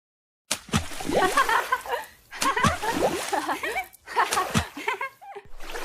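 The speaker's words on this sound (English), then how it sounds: "And they are splashing water all around." Animated children splashing water in a bath: bursts of splashing and sloshing alternate with playful laughter and vocal sounds, loud and close.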